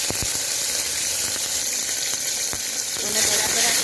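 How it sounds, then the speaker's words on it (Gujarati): Two large tomatoes sizzle loudly after going into a pan of roasted dry spices, cooked for a Gujarati potato curry; a dense, steady crackling hiss with a few sharp clinks of a spoon, swelling slightly near the end. "આ રીતના આપણા ટામેટા જ્યાં સુધી ઓગળે નહીં ત્યાં સુધી આપણે એને શેકી લેવાના છે"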